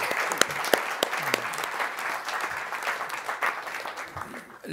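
Moderate applause from attendees at a Montreal press conference on a nature vision, a fairly close scatter of clapping hands that gradually thins toward the end.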